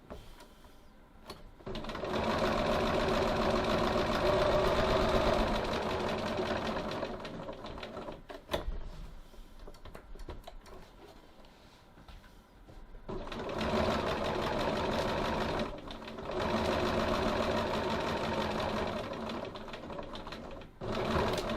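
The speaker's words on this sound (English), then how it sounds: "stitching back down again, just 1 stitch width from the first row of stitching." A sewing machine stitches a second row along a fabric slip pocket, running in sustained bursts of steady, close mechanical whirring with brief pauses between runs, loud and near with no talking.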